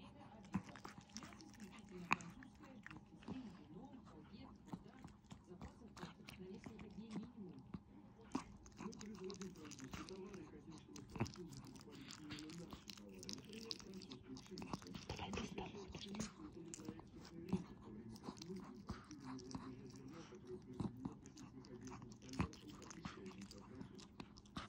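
A dog eating a quail egg up close, with soft wet chewing, crunching and licking sounds at a steady irregular rhythm, quiet and near, while a person murmurs softly in the background.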